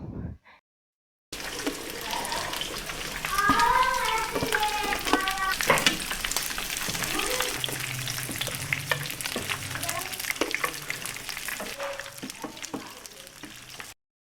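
Fish pakoras coated in gram flour sizzle and crackle steadily in hot oil during a second frying, close and fairly loud, with occasional clinks and stirring sounds throughout.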